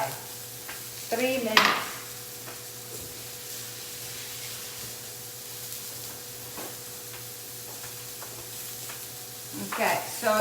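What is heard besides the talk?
vegetarian patties sizzling on a grill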